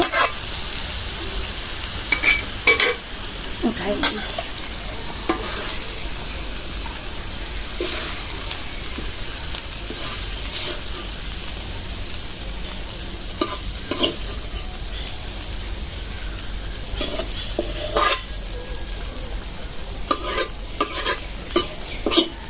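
Vegetables sizzle steadily in a hot frying pan while being stirred, with repeated scraping and clattering bursts over a constant frying hiss and no talking.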